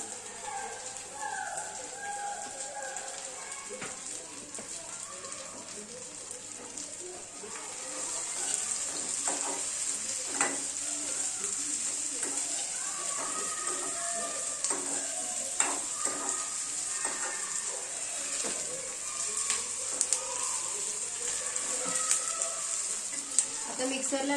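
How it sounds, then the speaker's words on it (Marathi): Misal ingredients dry-roast in a home kitchen pan, giving a steady, light sizzle with the scrape and rustle of stirring for the whole stretch, while a voice speaks now and then. "मी छान भाजून घेणार आहे आता"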